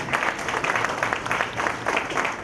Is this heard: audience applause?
yes